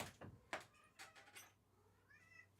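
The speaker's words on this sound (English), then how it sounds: "This is your pet tax for meowing outside my door." A pet cat meows at close range, a couple of short, faint mews followed by a softer rising cry, with a light knock or thump near the start.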